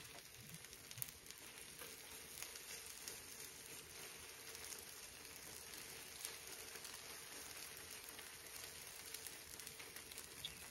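Okonomiyaki dough frying on an oiled electric griddle at medium heat gives a steady, faint, even sizzle throughout, with no voices.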